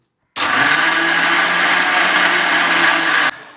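A mixer grinder whirs at high speed, blending leaves and raw rice, a loud steady motor drone that starts abruptly after a brief silence, holds for about three seconds, then stops.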